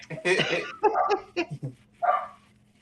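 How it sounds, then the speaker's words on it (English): A pet dog barks close by indoors, with several sharp, loud barks in quick, uneven succession followed by one more bark after a short pause. "Now it got my doggy barking."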